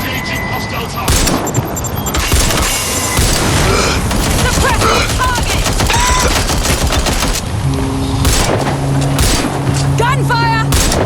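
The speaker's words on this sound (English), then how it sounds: "Gunfire!" Gunfire in the video game Watch Dogs Legion, loud bursts of shots and booms amid engine noise and game sounds, with voices and radio chatter throughout.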